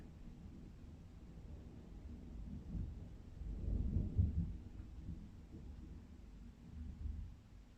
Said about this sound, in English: Every time I try to get out the camera, it starts thundering.